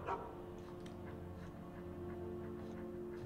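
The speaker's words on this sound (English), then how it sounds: "you naughty dog." A dog in the video game Skyrim whimpers and yips faintly in short bursts over a low, steady game ambience.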